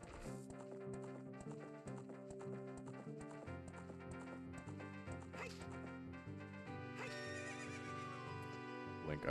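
Hooves clip-clop from a horse in Zelda: Ocarina of Time 3D, with a short whinny, mixed under loud melodic game music that continues throughout, with no talking.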